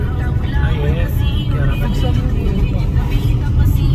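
Motor vehicles passing steadily along a village road near the Sialkot border, likely motorcycles, with a continuous close engine rumble and hum that holds at the same loudness throughout.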